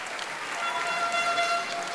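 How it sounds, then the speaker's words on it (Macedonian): Audience applause for three backing vocalists at a televised Macedonian Idol gala concert, a steady wash of clapping filling the hall at moderate loudness with a faint sustained tone running underneath. "Голем аплауз за нив."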